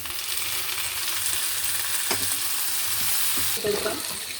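Ginger garlic paste and two small sliced tomatoes sauté in a pan for sausage roast, a close, continuous sizzle with a couple of sharper stirring scrapes near the middle and end.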